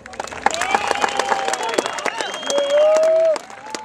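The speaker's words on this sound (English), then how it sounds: "Let's give him a round of applause." Graduation crowd applauding a graduate at a high school ceremony, broad sustained clapping mixed with whistles and cheers, with a long tonal whistle near the end and voices faintly under it.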